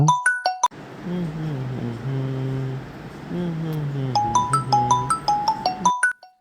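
Mobile phone ringtone for an incoming call from mom, a bright repeating chime pattern that rings, breaks off while a voice hums a melody, then returns in a quick sequence of tinkling notes.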